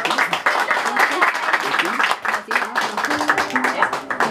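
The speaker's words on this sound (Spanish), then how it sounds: "Y el aplauso bien fuerte que se escucha" Loud, dense applause and cheering from a crowd at a birthday celebration with a youth mariachi band, sustained and close, with voices calling out within the clapping.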